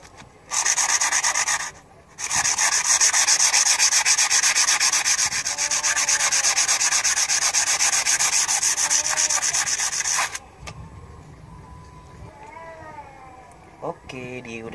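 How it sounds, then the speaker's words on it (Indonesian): Steady, loud rubbing of sandpaper on Ibanez Jem guitar wood continues for about ten seconds after a brief pause, then stops; a cat meows faintly in the background. "Sudah semua, kita amplas."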